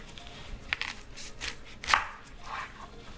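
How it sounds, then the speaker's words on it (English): A knife chops through an onion on a cutting board in a few uneven strokes, with sharp close thuds and crisp slicing against quiet background, no talking. "the next thing we have to do is cut the onion"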